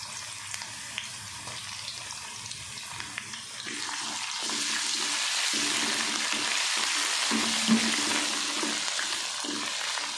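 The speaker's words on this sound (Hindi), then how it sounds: "अदरक लहसुन हमारा अच्छे से सौते हो गया।" Ginger garlic paste sautéing with onions in a pan, a steady bright sizzle and crackle that thickens partway through, with faint scraping of a spoon now and then, close and continuous without talk.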